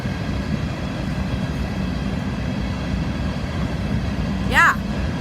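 A freight train rolls past with an ES44AH locomotive working as a rear distributed power unit on the Florida S-Line: a steady, fairly quiet low rumble of wheels and engine, with a short bright chirp near the end.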